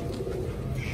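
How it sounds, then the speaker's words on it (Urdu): Pigeons coo softly in a loft in Karachi that holds more than a hundred birds, a low steady murmur of cooing against a faint background hum. "کبوتر دیکھ رہے ہیں ماشاء اللہ"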